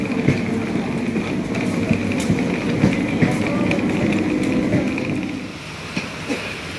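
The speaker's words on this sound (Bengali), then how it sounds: "এখন একটা দূরপাল্লার ট্রেন যাচ্ছে" A long-distance train passes through a station amid rainy, stormy weather, making a loud, sustained rolling rumble with rattling clatter that drops off after about five seconds, leaving a quieter rain-like hiss.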